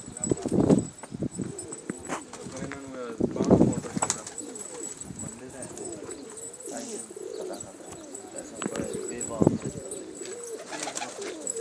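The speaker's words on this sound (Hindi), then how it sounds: "बहुत खूबसूरत कबूतर हैं।" Pigeons coo repeatedly in soft, rounded bursts close by, with people talking at the same time and some faint knocks in the background.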